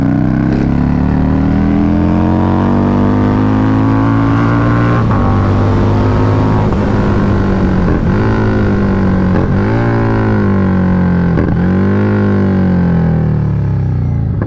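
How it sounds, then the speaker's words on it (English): A loud Harley motorbike engine roars up close while riding, its deep throb rising and falling as the rider rolls on and off the throttle, with several clear shifts and revs and no talking. "it's just a motorbike with a smooth engine, with 2 wheels, makes a loud noise"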